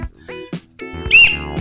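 A whistle built into a whistle-shaped USB pen drive gives a short, shrill blast that rises loud for a moment, followed by some background rumble and brief voices.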